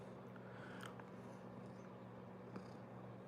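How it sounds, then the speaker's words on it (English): A house cat purring up close, a soft continuous low rumble steady throughout, with a few faint higher clicks over it. "sorry, my cat is distracting me"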